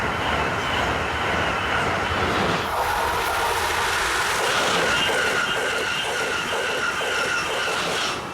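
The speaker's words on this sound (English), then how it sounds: "A Siemens ACS 64 races south" A Siemens ACS-64 electric locomotive races south hauling a train on the Amtrak line in Maryland, a loud, steady rushing roar of wheels and rails with faint squealing, passing close by throughout.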